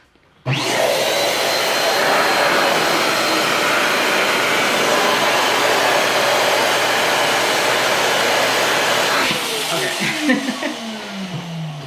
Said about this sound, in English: We're gonna blow it up to maybe, like I said, double what the size of this is.